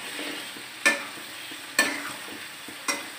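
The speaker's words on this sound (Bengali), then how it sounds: "ফুলকপির তরকারি নাড়াটা কিন্তু একটু সাবধানে নাড়বে" Cauliflower curry in oil being stirred in a pan, three sharp spoon scrapes spaced about a second apart over a faint, steady sizzle, close and fairly quiet.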